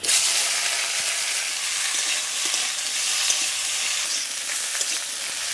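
Okra, potato and green chilli fry in mustard oil with salt and turmeric, a steady close sizzle and crackle holding level throughout with faint scraping of a spatula, no voices.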